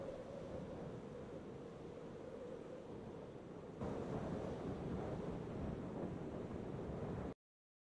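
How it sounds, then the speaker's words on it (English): Wind howls steadily in a mountainous video game landscape, a faint, continuous rushing roar that swells a little louder halfway through before cutting off abruptly. "The haunting cries of the wind."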